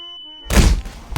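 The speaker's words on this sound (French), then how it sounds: "les corps font un bruit de ragdoll" A ragdoll body drops in Garry's Mod, a heavy, close thud with a short rumbling tumble that follows a fading tonal ring, then a second smaller knock at the end.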